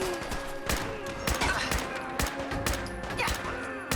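Rapid bursts of gunfire from a scoped rifle in the video game Fallout 4, sharp repeated shots in quick uneven succession, loud and close over a steady background hum.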